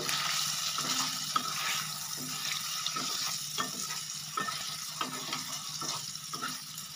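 Spices with Kashmiri chilli powder stirred in a pan for a dahi paneer dish, with a soft hiss under repeated scraping strokes in an even rhythm, close but fairly quiet, no voices.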